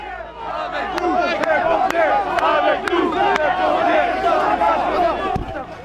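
A dense crowd of protesters shouts and chants around an immobilized fire truck at a square with a nearby fire, a loud, continuous roar of voices with sharp clacks now and then.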